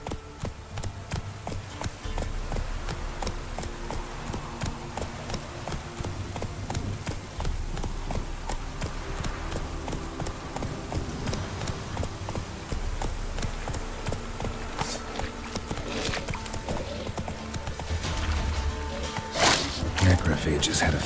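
Horse hooves galloping steadily in The Witcher 3, a continuous clip-clop rhythm beneath game music and ambience, with speech passing over it.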